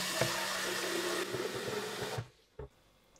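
Running tap water rinses out the reservoir of a Tineco Carpet One Spot cleaner, a loud steady gush that cuts off abruptly near the end, followed by a brief knock.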